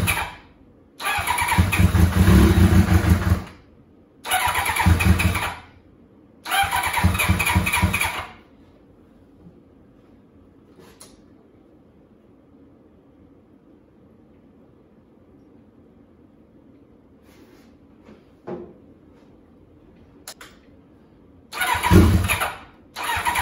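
A 1990 Kawasaki Ninja ZX7 motorcycle engine being cranked in several loud bursts of starter churning separated by near-silent gaps, with a faint idle rumble between attempts and another burst at the end.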